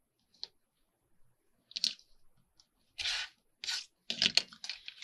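Paper being cut to size for envelope pockets, a few short, crisp rasping snips, sparse at first and then in quicker bursts, close and alone with no talking.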